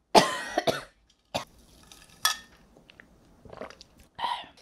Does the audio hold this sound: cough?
yes